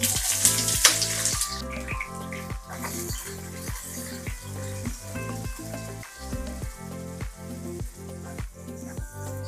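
Mustard seeds, fenugreek and onions frying in hot oil for a Tamil fish head curry, with a steady crackling sizzle broken by a regular series of sharp clinks, close and continuous with no talking.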